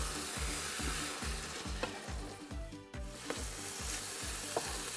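Meatballs poaching in tomato sauce in a pot on low heat, a steady close bubbling and sizzling with a regular pulsing rhythm and no voices.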